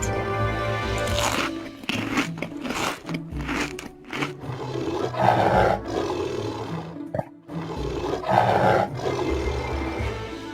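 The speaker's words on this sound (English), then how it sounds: "A tiger." A tiger gives loud, deep roars and growls in repeated bursts with short gaps between them, close and alone with no talk.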